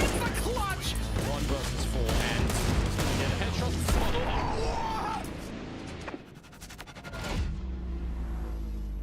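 Rapid bursts of gunfire in a Counter-Strike match, dense volleys of shots over a commentator's excited voice, thinning briefly before another flurry.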